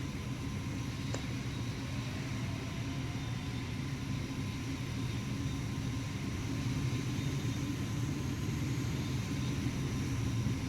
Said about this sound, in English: go ahead and get the aircraft started